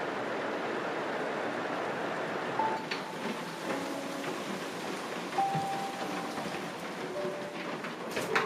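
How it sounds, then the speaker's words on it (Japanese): Steady rain falls on a morning in the Nagano mountains, a soft continuous wash of drops with faint bird calls threading through and no voices. "雨の日の朝"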